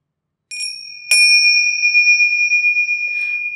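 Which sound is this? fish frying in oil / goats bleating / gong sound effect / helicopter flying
gong sound effect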